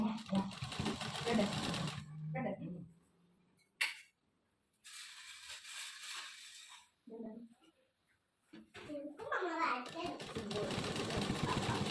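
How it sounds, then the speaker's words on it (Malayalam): A sewing machine stitches elastic into pants, running in loud, fast, whirring bursts with short pauses between runs, and a voice is heard faintly in the background. "ഇത് സ്റ്റിച്ച് ചെയ്യുമ്പോൾ നമ്മുടെ അലാസ്റ്റിക് ജോയിൻ ആവരുത്"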